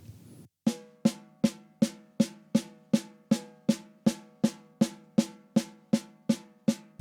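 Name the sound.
drum played with open hand bounce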